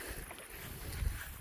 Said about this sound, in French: j'ai le vent qui vient vers moi